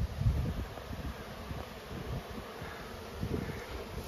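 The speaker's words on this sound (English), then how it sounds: "all the bees on all the hives, they're all coming back in" Field bees returning to their hives before rain make a soft, continuous buzzing hum close by, mixed with light wind noise and rustling.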